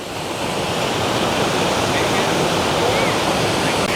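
Waterfall pouring beneath a huge arched stone bridge in Petit Jean State Park, a steady, dense roar of falling water that stays loud and unbroken throughout.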